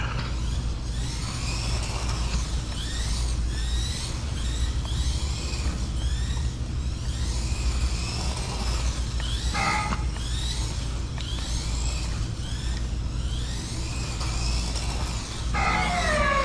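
A Mini Z remote-control car runs fast laps at full throttle, a continuous whining motor with rising and falling pitch sweeps as it speeds around the track, steady and fairly close, with no talk.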